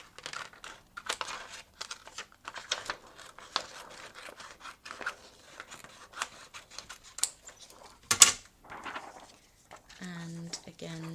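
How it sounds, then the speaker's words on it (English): Scissors snip through card along a score line, a run of close crisp cuts with rustling paper between them, and a person talks quietly over part of it. "I'm going to use that score line and use my scissors"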